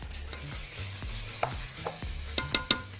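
Vermicelli frying in a pot for red rice, stirred with a spoon: low scraping strokes recur every half second or so over a gentle sizzle, with a few sharper clinks of the spoon against the pot near the end.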